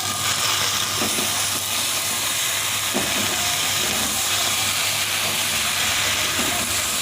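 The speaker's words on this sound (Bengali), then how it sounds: "এখন চিংড়ি মাছগুলো দিচ্ছি" Prawns go into a hot pan and sizzle in a dense, continuous loud hiss that holds steady throughout, close by, with a few soft knocks from stirring and no talking.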